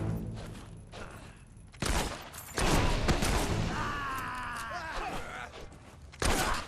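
Gunfire in the Fable 3 video game: bursts of shots and thuds come in loud clusters between quieter stretches, with some in-game voices and groans mixed in.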